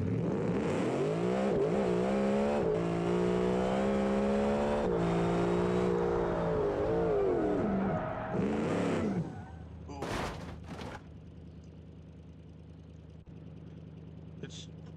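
A car engine in its LM version revs loudly and steadily in the BeamNG Drive driving game for about nine seconds, rising and dipping, then cuts off, leaving a few sharp bangs and a quiet hum.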